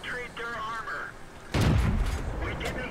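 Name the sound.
tank gun firing into enemy's side, World of Tanks video game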